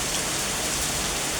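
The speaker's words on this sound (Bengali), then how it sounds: "এই তো শান্তির বৃষ্টি শুরু হয়ে গেছে মুষলধারে" Heavy downpour pouring steadily, a dense, even roar of rain hitting surfaces close by, with no voices.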